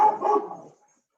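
A dog gives a single close bark with a short yelping tail that fades quickly into silence, set off by a creaky door.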